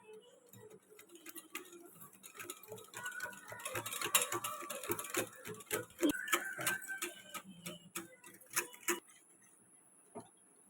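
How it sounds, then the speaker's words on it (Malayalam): Eggs are beaten by hand in a bowl for brownie batter, a quiet, close run of rapid rhythmic clicks and taps from the whisk that thicken in the middle and thin out toward the end. "കൈ കൊണ്ട് ബീറ്റ് ചെയ്യുമ്പോൾ കുറച്ച് അധിക സമയം വേണ്ടി വരും"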